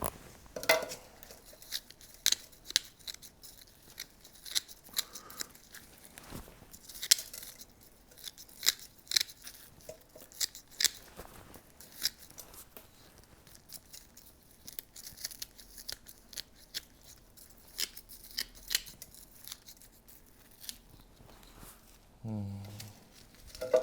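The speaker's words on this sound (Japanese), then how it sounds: "根のさばきというか根を切る作業はほどほどがこれぐらいですね" Scissors snipping through the roots of a bonsai during winter repotting, a string of sharp close clicks and cuts with rustling between them, and a voice speaking quietly at times.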